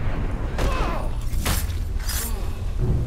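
Glass shattering in the video game Assassin's Creed Syndicate, several bright crashing bursts over a loud, rumbling game soundscape with muffled thuds underneath.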